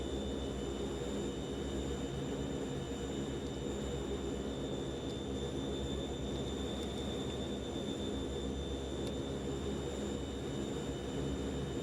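Steady droning hum of Fokker F27 Friendship turboprop engines in Microsoft Flight Simulator 2020, a constant even tone with a high whine riding on top, heard alone without talk.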